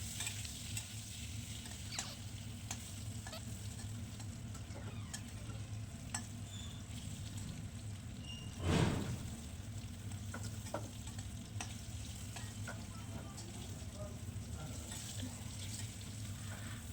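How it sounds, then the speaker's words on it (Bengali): Potato and papaya pieces frying in oil for a meat curry, a steady low sizzle running throughout with occasional stirring scrapes and one louder stir near the middle; no voices. "আলু পেঁপেটা ভালোভাবে ভাজা হয়ে গেলে তুলে রাখবো একটা অন্য পাত্রে।"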